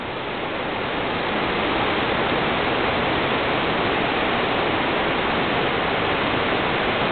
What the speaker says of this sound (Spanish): Prácticamente es una chorrera desde este punto que se puede ver